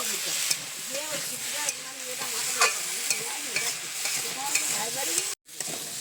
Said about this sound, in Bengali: ঢাকাটা খুলে নিয়েছি, এবারে নেড়ে চেড়ে একটু কষিয়ে নেব।